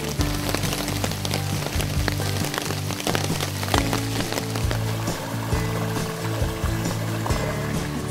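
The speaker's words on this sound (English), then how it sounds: "It's pouring rain too." Heavy rain pours down steadily at a forest campsite, a dense, loud, continuous wash of drops drumming on surfaces with no pauses.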